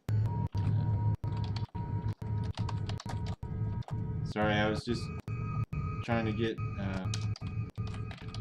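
Rapid keystrokes on a computer keyboard set up for Japanese input, close and clicky in a steady run, with a voice talking over the typing partway through.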